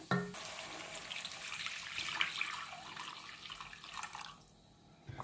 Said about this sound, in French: je vais ajouter l'eau pour couvrir toute ma viande